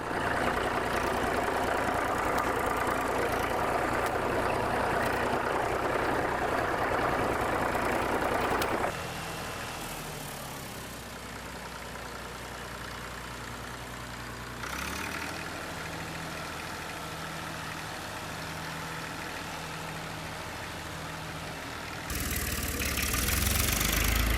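Tractor engine running steadily in the field after a gear change, a loud continuous mid-pitched drone with a knocking idle character that drops in level and shifts tone partway through, then swells again near the end, with no voices.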